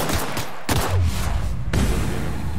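Gunfire in The Outer Worlds, several loud sharp bursts of shots fired in quick succession, each cutting off abruptly with brief gaps between them, close and dominant.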